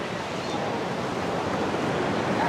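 Large waves surge and break at a Goa beach in light rain, a steady, fairly loud roar of surf with some wind noise on the microphone.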